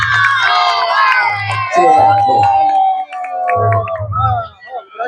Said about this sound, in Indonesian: Sini, tepuk tangan dulu buat dia.